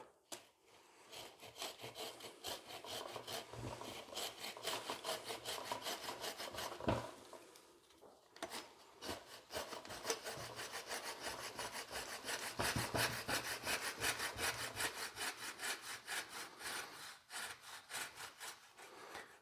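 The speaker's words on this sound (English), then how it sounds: "Now these silky saws are so sharp." A sharp Silky pruning saw cuts through a dead lemon tree bonsai branch in quick, even, rhythmic strokes. The rasp is close and continuous, with one short break midway before the sawing resumes.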